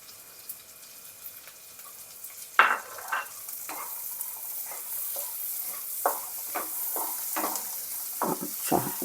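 Chopped onion sizzles in hot oil in a wok after garlic and ginger for a chicken stew, with a steady hiss and repeated stirring scrapes and spoon knocks, close and moderately loud; no talking.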